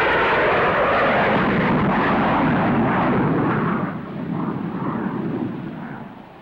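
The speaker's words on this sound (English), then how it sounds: "Now we are approaching with the afterburner in operation. Watch the increase in this climb." A jet aircraft with its afterburner lit roars loudly in a climb. The broad rushing thunder holds steady, then eases a little toward the end.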